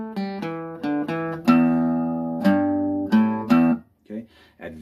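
Blues call riff picked on the low strings of a guitar, a short phrase of single bass notes with each note ringing out before the next, played up close and alone.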